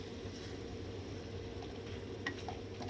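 Small tomatoes are stir-fried in a pan, giving a faint, low sizzle with a few light scrapes and taps from stirring.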